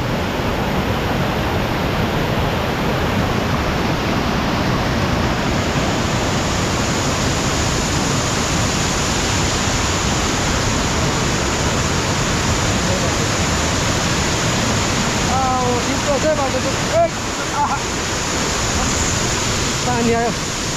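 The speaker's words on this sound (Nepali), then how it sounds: "खोला बढेर यस्तो भयो।" A swollen stream spills across an overgrown hillside path, making a steady, loud rushing wash of water that barely changes throughout, with faint voices briefly audible near the end.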